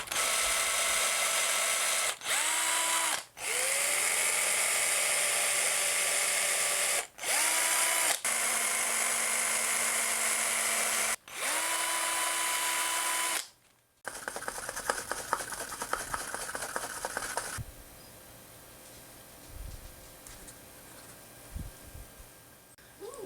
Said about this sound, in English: Time to drill the holes for the twist eyes.